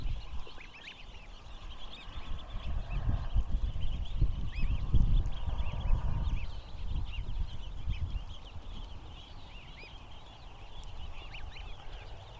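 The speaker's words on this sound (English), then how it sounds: "So are there many ducks inside?" Ducks gather in a yard, producing a steady chorus of quacks and honking calls at moderate distance over a low rumbling background, with no talking.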